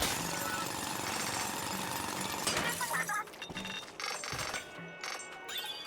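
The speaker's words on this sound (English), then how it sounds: "Alright, get drilling." A robot drill grinds against a large crystal in the video game Splatoon Raiders, a steady dense rasping that runs for several seconds before breaking into choppier bursts and faint clinks near the end.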